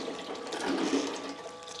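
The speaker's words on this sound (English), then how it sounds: "I'm just taking the water here and dropping it down" Water is poured steadily over a gold pan to wash dirt down while prospecting outdoors in Wisconsin, a soft continuous splashing trickle, close and fairly faint, with no talk.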